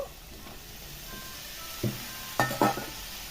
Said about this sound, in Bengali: এবার ব্রোকলিটা দিয়ে দেবো।